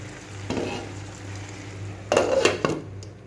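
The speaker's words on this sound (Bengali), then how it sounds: "একটু নাড়িয়ে দেব।" A spoon stirs masala kudri in a pot, making a few scraping, clattering strokes against the metal over a low steady hum and soft background hiss.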